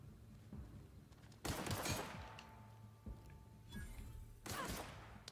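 Gunfire in the video game The Outer Worlds: three loud, short bursts of shots come in separate volleys a second or two apart, ringing out over a low background hum.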